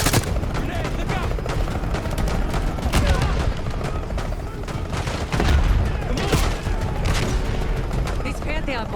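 Combat in Call of Duty Black Ops 6 with a grenade blast amid continuous gunfire and booms, loud and dense throughout, with shouted voices over the action.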